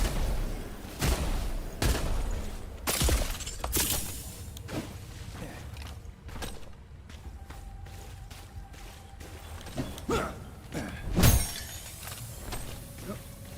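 Gunfire in the video game Wayfinder, a run of sharp, punchy shots at an uneven rhythm mixed with clinks and impact effects over a game background.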